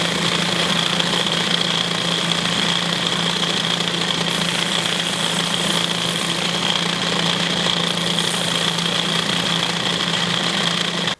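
Belt sander evening up cut leather pieces for a knife sheath, a steady loud motor whine and abrasive hum running continuously and close with no talking.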